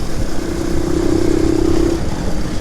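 A Shineray 250 quad engine revs loud and close, holding a steady mid-pitched drone for about a second before easing off, with no voices.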